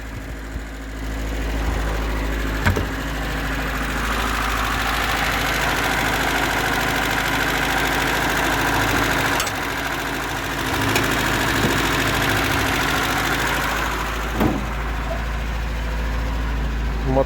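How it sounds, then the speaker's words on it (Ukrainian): A ZAZ Tavria car engine idles steadily for the full length, a low constant rumble with a few small clicks and knocks. "моторчик працює."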